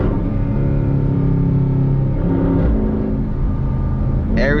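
A 2020 Jeep Grand Cherokee SRT engine in track mode, a steady loud droning rumble heard from inside the cabin while driving, holding constant with slight rises, no talking over it.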